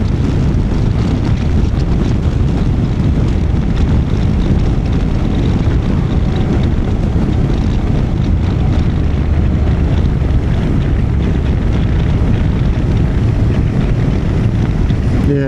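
Heavy wind buffeting the microphone while riding a Honda NC750X motorcycle, a loud, continuous low roar with steady rushing noise throughout.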